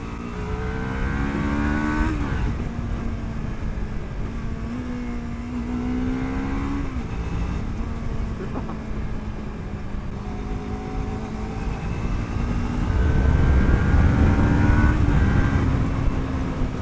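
Lexmoto LXR380 motorcycle under hard acceleration for a 0-60 mph run, engine revving up through the gears near the mic, with pitch climbing, dropping at shifts, then climbing again, loud and continuous with wind roar.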